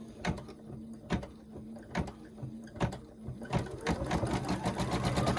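A sewing machine stitching fabric for a quilted table runner, with short rhythmic bursts of needle clatter at first that run together into a continuous whirring stitch toward the end, close and clear with no speech.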